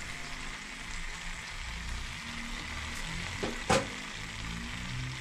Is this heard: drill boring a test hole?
no